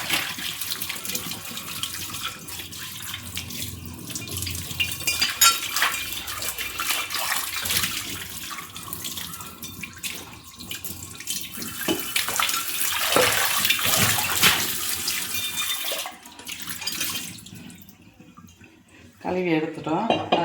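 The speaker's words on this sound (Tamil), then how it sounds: "இப்போ கழுவி எடுத்துக்கலாம்." Running tap water pours over an aluminium pot being rinsed after a salt scrub, splashing loudly and continuously. The flow pauses briefly near the end, then resumes, with occasional clanks from the pot.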